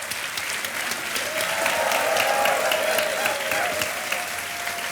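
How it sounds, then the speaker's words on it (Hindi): Steady, full studio audience applause with some cheering swells and holds at a quiz show after a correct answer, loud and continuous throughout. "और शोर और ताली बजती रहे।"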